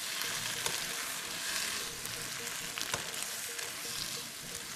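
Garlic pods frying in a pan alongside wilting pak choy, a steady moderate sizzle with light stirring clicks, fairly even in level from start to finish.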